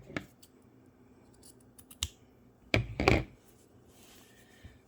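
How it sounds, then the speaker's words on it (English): Scissors snip the fabric corners of a handmade burp cloth in a few quick, close cuts, with a louder cluster of snips near the middle, in an otherwise quiet room. "then cut just like that on all 4 corners"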